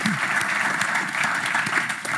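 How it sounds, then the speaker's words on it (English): An audience applauds at an interview event at AEI, with dense, steady clapping from a crowd filling the space and faint voices mixed in. "Another round of applause for them."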